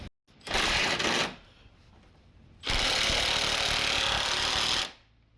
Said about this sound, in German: So, der andere Schlagschrauber ist zu klein.